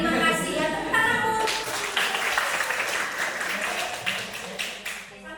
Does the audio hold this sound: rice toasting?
no